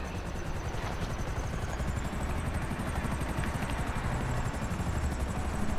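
Steady helicopter rotor and engine drone from a racing video game, loud and continuous throughout with a faint high whine riding on top and no talk.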